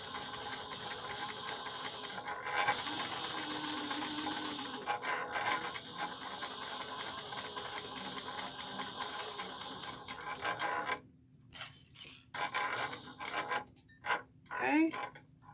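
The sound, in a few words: sewing machine stitching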